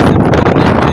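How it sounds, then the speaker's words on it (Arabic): Strong wind buffets the microphone in a steady, loud roar with no gaps, on a desert road trip near the sea on the way to Boujdour. "كان الريح مجهد"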